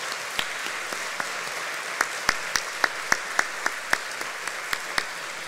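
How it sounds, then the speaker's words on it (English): Applause from an audience at a chamber of commerce annual meeting honoring board members, a steady wash of clapping with several sharper individual claps standing out, moderately loud and without speech. "How about a round of applause for their service?"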